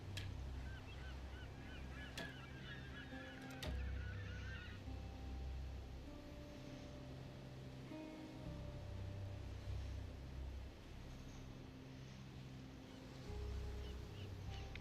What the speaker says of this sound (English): It's a bird.